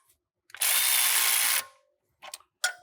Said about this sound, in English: we're gonna go ahead and use the electric ratchet and some pressure from behind just to get a couple more threads